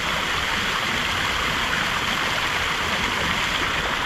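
A steady, dense rush of falling water pours into a pool, loud and continuous without pause, a broad close-up splashing roar.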